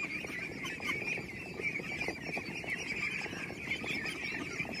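Farm ducks raised alongside crabs in a rural breeding operation make a continuous chorus of quacking and honking calls, fairly close and busy, with no talking over them.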